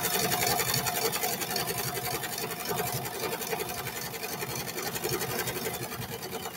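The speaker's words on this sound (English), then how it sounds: "I like when my machine is running correctly." A home sewing machine stitching shorts runs steadily at close range, its rapid mechanical whir and needle chatter holding an even pace throughout with no pauses.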